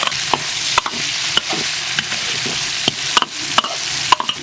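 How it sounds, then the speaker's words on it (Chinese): Pork belly is stir-fried with dark soy sauce, spring onion, ginger and dried chillies in a wok, giving steady close sizzling broken by sharp scrapes and clanks of the spatula, with no talking. "炒上色，倒入开水，"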